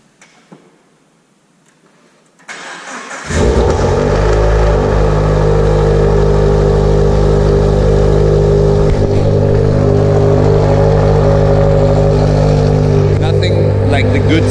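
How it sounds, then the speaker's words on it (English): A Porsche Boxster engine cranks and catches after a quiet moment in a cold start, then settles into a loud, steady high idle with a rough rumble, close by. "You have the occasion to hear GG1 with a cold start."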